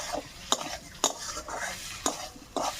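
Fried potatoes with turmeric and salt for aloo dum being stirred in a pan, giving soft rhythmic scraping strokes roughly every half second, close and fairly quiet.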